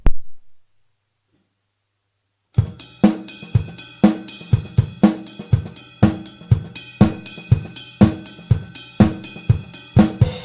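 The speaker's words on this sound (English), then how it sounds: "You could do the sort of pull the accent on the bell" After a brief silence, a drum kit plays a steady upbeat disco groove with bright cymbal-bell accents ringing over kick and snare.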